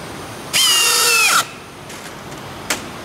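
A power screwdriver drives a self-tapping screw in one loud, high whirring burst of about a second that winds down, followed by quiet and a brief click.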